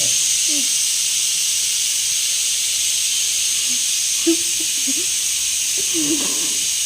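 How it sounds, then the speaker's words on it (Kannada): A pressure cooker vents steam in a loud, steady hiss that runs without a break, with faint low murmurs of people talking in the background. "ಕಮಲ್ ನಿಮಗೆ ಆ ಕುಕ್ಕರ್ ನೋಡು"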